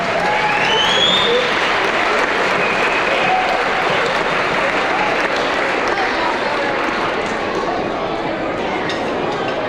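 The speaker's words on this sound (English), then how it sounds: "please give a big round of applause to our 8th grade band students" A big round of applause from a concert audience for 8th grade band students at a winter band concert, steady loud clapping from a large crowd sustained throughout.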